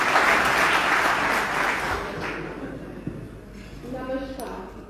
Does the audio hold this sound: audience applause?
yes